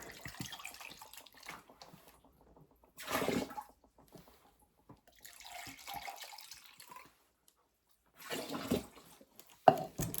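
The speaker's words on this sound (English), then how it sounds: "Rinse this cup out with some more water." Tap water runs into a cup to rinse it out while homemade wine is being made from fresh picked grapes. Several separate splashing bursts of running water sound close by, with quiet pauses between them.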